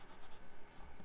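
A pen scratches across paper while sketching dark triangular teeth at the back of a monster's mouth, a faint close run of soft strokes lasting about a second.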